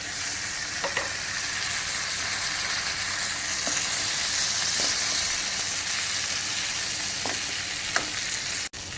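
Ridge gourd frying with onion and ginger garlic paste gives a loud, dense, continuous sizzle in the pan, with a few light stirring clicks spaced through it and no speech.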